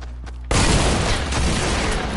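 A double-barreled shotgun going off in a Fortnite battle, a sudden loud blast followed by dense, noisy crackle and rumble that keeps going to the end.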